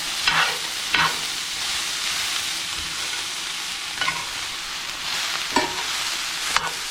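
Plant-based bulgogi fried rice with tofu and seaweed sizzles steadily in a hot pan while a utensil scrapes and stirs it, with occasional sharper clinks over the constant frying hiss.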